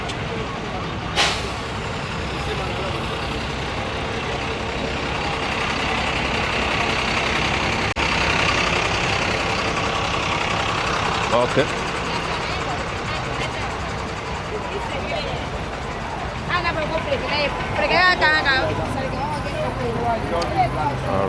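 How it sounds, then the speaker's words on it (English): Dense street traffic in a busy Abidjan neighbourhood, with cars and painted minibuses crawling along, engines idling and rumbling, occasional air-brake hisses and horns, while someone talks close by throughout. "traffic is huge here. The cars are moving very slowly"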